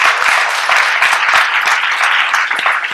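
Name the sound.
audience applause for the newcomers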